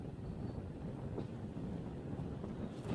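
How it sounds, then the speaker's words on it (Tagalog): Strong wind gusts roar across a microphone beside the water at a rocky shore, a constant low buffeting rush that fills the whole moment with no clear voices. "Lakas na naman ang hangin no"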